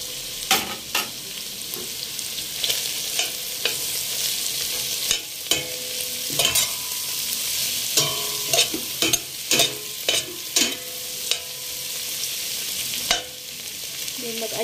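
Cardamom, coriander, bay leaves, star anise and cinnamon bark fry in a pan for chicken biryani, with a soft sizzle under repeated scraping, clattering stirs from a utensil, close by and irregular, with no voices.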